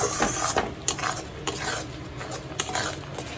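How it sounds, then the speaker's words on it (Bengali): Spices with turmeric being stirred in a pan over high flame, with scraping spatula strokes and clinks against the metal over a continuous background sizzle, close and fairly loud. "দেব আর একটু হলুদ গুঁড়ো, সবগুলো আবার একটু নাড়িয়ে নেব হাই ফ্লেমে"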